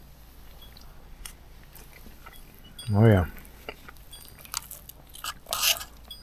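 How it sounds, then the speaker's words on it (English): Crunchy broccoli being chewed during a winter camping meal, one loud close crunching bite followed by a few fainter chewing sounds, with brief murmured talk. "Broccoli's still crunchy. I like it that way."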